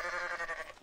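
A goat in Goat Simulator lets out a single short, wavering bleat, loud and close, alone without voices.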